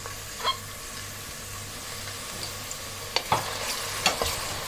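Onions fry and sizzle gently in hot oil for chukandar gosht, with a soft continuous crackle and a few sharp clinks of a spoon stirring the pan.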